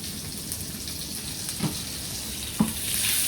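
Scallops sear with butter in a hot pan, a continuous close sizzle and spatter with two brief knocks of the pan or utensil, no talking.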